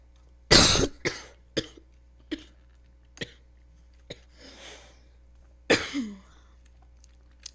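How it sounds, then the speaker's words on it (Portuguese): A person coughs hard once, followed by a string of short, lighter coughs and throat clears spread over several seconds, close and loud in a quiet room. "Tô tossindo muito."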